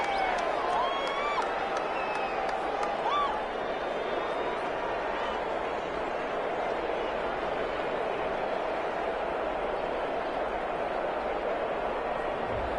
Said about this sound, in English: Some boos coming down right now from this home crowd after that call.